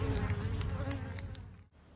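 Honey bees buzzing around a Kenyan top-bar hive, a dense, steady droning hum of many insects close by, with individual bees flying past before the sound briefly drops away near the end.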